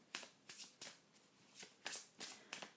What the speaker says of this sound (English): I'm just going to shuffle the cards once again.